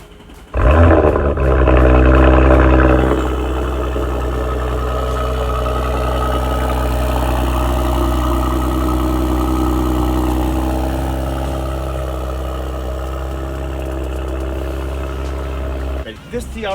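Audi RS5 with a 3.0-liter turbocharged engine and Capristo valve-controlled exhaust starts with a loud roar, then settles into a steady, deep idle that holds for over ten seconds before cutting off.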